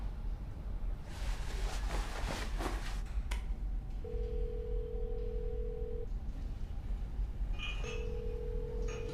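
A phone call rings out with two long, steady electronic ringback tones separated by a pause, after some brief rustling and handling noise.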